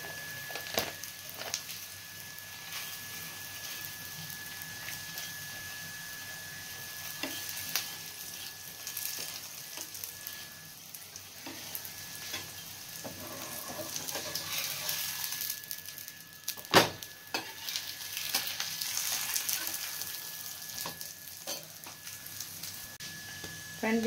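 Radish paratha cooking in ghee on a hot griddle, a steady soft sizzle and crackle throughout with occasional scraping and flipping sounds, under a voice speaking in Hindi.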